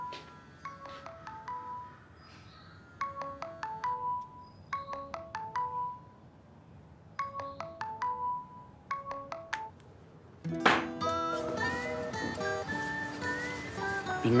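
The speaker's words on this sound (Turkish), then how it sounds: "Telefon çalıyor." A telephone ringtone plays a repeating electronic melody in short bursts, four rounds with pauses between them, near and clear, then gives way to a denser tonal passage.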